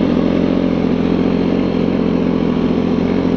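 A snowmobile engine drones steadily and loudly throughout a ride over hard, cement-like snow, a constant close mechanical roar with no pauses or speech.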